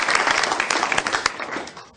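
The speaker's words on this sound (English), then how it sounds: "let's give them a round of applause" A crowd at a superintendents' breakfast applauding, dense clapping that holds steady and then gradually fades out toward the end.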